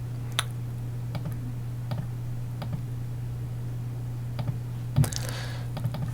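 Keys typed and pressed on a computer keyboard during SAP software work, a sparse series of light clicks at irregular intervals with a slightly louder clatter near the end, over a steady electrical hum and no talk.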